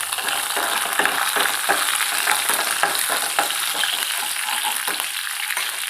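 Curry leaves and green chillies fry in hot oil in a pan, a dense continuous sizzle broken by repeated scraping stir strokes, close and fairly loud, with no talking.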